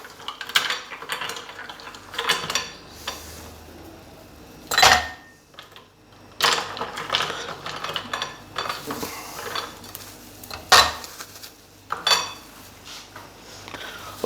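Ice cubes dropped into glasses for mango juice: several loud clattering clinks in separate bursts, close by, with quieter rattling between them.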